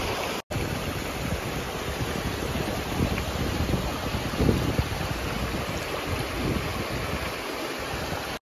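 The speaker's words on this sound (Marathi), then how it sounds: "खतरनाक वारा सुटला" Strong, gusty wind roars continuously across an open outdoor spot in rainy weather, buffeting the microphone with a loud, unbroken rush.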